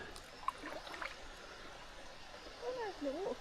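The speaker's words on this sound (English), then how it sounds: "Oh, that's a pretty little waterfall." A small waterfall beside the River Tamar gives a steady, soft rushing and gurgle heard from a canoe, with people talking over it.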